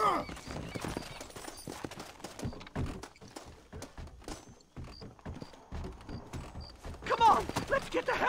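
Horses clip-clopping in the Western video game Red Dead Redemption as riders flee the town of Blackwater, quick irregular hoofbeats mixed with thuds and shouted voices, fairly quiet overall with a louder burst near the end.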